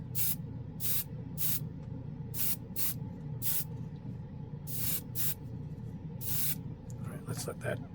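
An airbrush sprays acrylic base coat paint onto a mecha model in short, repeated bursts of hissing air, close and fairly loud, with a steady low hum of a compressor running underneath.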